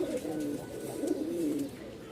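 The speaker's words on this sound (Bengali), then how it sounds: "দেখেন নরের ডাক" A male Rajshahi Giribaz pigeon, newly brought to a loft, gives a low throaty coo, a rolling call that repeats a few times close by.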